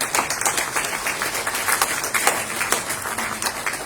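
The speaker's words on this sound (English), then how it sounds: "We want to give ourselves a big hand clap." Audience applause at the closing ceremony of an EU-Liberia political dialogue, a steady wash of many hands clapping in a room, continuous and moderately loud.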